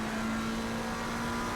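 A race car engine at full throttle in a racing game at Spa-Francorchamps, a loud, constant high-revving drone that holds steady across the whole stretch with no talking.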